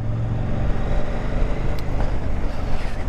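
A KTM 890 R Duke motorcycle engine running with a steady, rumbling drone, loud and continuous throughout, mixed with wind noise and no talking.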